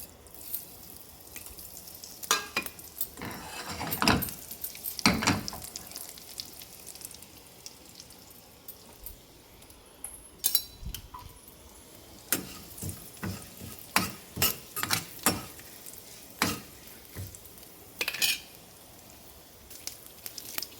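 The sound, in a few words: cumin and dried chilli tempering sizzling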